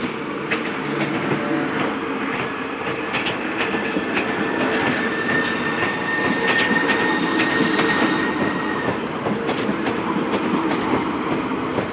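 A Class 395 train rumbles steadily past the level crossing at Deal in Kent, with continuous loud clattering wheels on rails and a faint high whine laid over the rush throughout.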